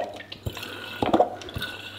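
Distilled vinegar is poured into a bottle for a homemade bathroom cleaner, making faint, close splashes and irregular drips and glugs.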